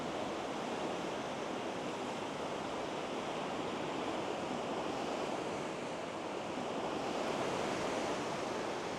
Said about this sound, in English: look out over the back of the ship at the ocean